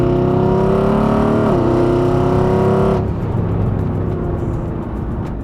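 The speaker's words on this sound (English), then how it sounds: "the downshift sounds so good" Widebody Mercedes-AMG GT making 1,000 hp, its engine holding a loud steady high rev before dropping pitch in a downshift, then settling into a rougher, lower drone close up.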